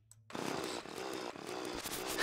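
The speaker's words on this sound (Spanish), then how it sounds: "El taladro este con el que picar." A drill in the Terraria video game mines mithril and orichalcum ore. It starts abruptly after a short silence and holds a loud, steady, chainsaw-like buzz that pulses slightly to the end.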